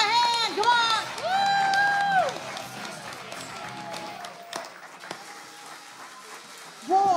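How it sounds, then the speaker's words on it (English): Audience at a December 24th 2023 event claps and cheers loudly for children dressed as shepherds, with whoops and children's shouts riding over the applause before it fades to scattered clapping and voices. "one more round of applause, so let's give them a hand"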